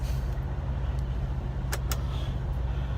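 Continuous low idling engine drone at a truck stop, broken by a couple of short sharp clicks or hisses, with faint distant vehicle sounds and no talking.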